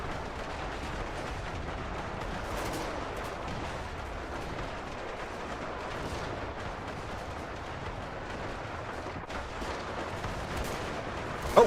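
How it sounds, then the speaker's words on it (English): Bolt fire rages across a video game battlefield as dense, continuous volleys of gunfire and blasts roll on, moderately loud and unbroken, with no talk. "that bolt fire's deadly though, isn't it?"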